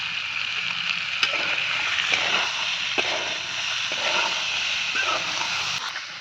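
Green peas tipped into a pan of frying potatoes, tomatoes and spices, with a steady close sizzle and occasional small clicks and splatters, no speech.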